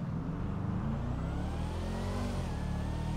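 A car engine in GTA 5 drones and revs steadily with a rising whine of turbo spool, constant and close with no talking.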